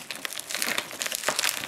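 Soft plastic packaging crinkles and rustles up close in quick, irregular bursts for a couple of seconds.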